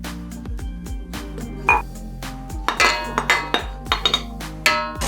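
Cake batter of eggs, an extra egg yolk and vanilla being mixed in a bowl, with close, irregular clinks and taps of a utensil against the bowl and no talking.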